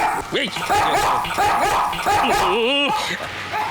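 A small dog barks and yips repeatedly in quick, sharp bursts, close and fairly loud, while people talk over it.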